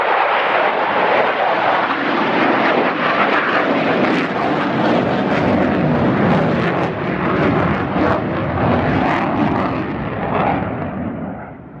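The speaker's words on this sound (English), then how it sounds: "It's actually an F-4E, known as a Phantom II, and here comes another one." An F-4E Phantom II jet fighter passes at an air museum with a loud, broad roar that holds strong for the whole stretch and then eases slightly near the end, with no talking.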